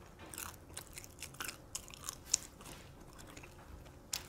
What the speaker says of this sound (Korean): 양념게장 왜 먹어?